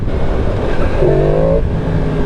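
A Yamaha MT-10 motorcycle engine drones loudly under steady road noise, with a brief rising rev in the middle before settling back to a constant hum.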